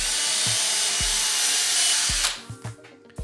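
A Forstner bit bores into wood on a workbench build, making a loud, close, steady grinding whir with regular low thumps, then winding down into a few short knocks and scrapes.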